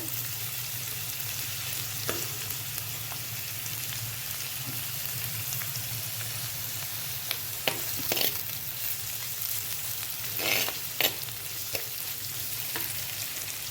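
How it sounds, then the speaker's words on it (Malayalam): Grated green papaya for Kerala-style thoran sautéing in a pan with curry leaves, a steady close sizzle and hiss with a few sharp clicks from stirring, no voices. "നമ്മുടെ ഇത് വഴറ്റി വരുന്നുണ്ട് നന്നായിട്ട്"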